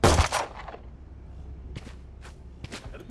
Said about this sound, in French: tu peux tirer 3 balles en même temps, regarde